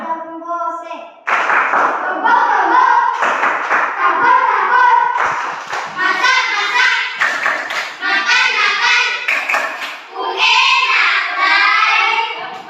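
Primary schoolchildren in an Indonesian classroom chant the tepuk jagung gose clapping routine together, with loud, rhythmic bursts of hand claps running through their voices.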